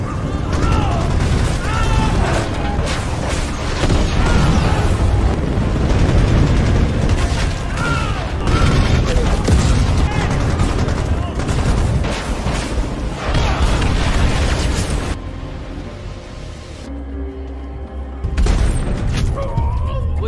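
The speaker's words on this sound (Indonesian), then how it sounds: "Helikopter Apache yang sudah menerima titik lokasi mortir musuh segera menghujani mereka dengan serangan rudal dan tembakan mesin dengan begitu dahsyat." In a war film, an Apache helicopter pours missile strikes and machine-gun fire onto an enemy mortar position. A dense, loud barrage of booms and rattling bursts runs for about fifteen seconds, eases into a lower rumble, then one more blast erupts near the end.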